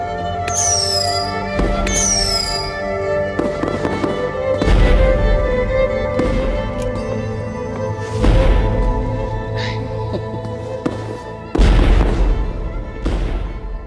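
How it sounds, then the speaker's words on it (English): Memorial fireworks display with whistling rockets rising, then repeated deep booms and crackling bursts spaced a few seconds apart, loud and close with lingering rumble. "Ashes to Flashes Memorial Fireworks."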